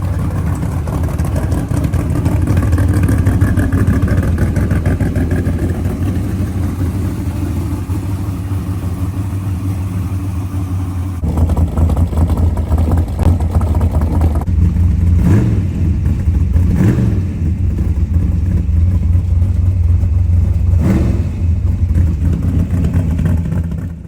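A 1955 Chevy with a prototype all-motor engine and carburetor idles loudly while warming up, close by, then gets several sharp revs in the second half.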